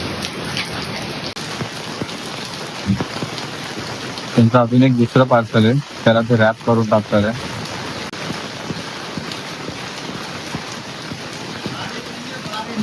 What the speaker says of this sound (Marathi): नेमका आजच पाऊस बरोबर आहे किती जोरात आहे बघ ना बघ